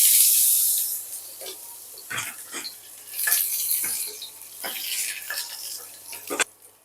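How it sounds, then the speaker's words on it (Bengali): Sliced garlic, four to five cloves cut lengthwise, fries in oil with tempering spices for masoor dal with bottle gourd greens, giving a steady close hissing sizzle broken by repeated scraping stir strokes, with no talking. "রসুনটা একটু ভাজা ভাজা হলে"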